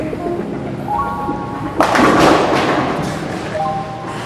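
A bowling ball thrown down the lane, a sudden thud on release followed by a rolling rumble that fades, heard close in a bowling alley with faint background noise.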